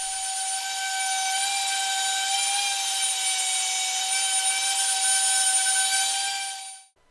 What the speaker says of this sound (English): The frame is given a good sanding to smooth the wood and mitered joints.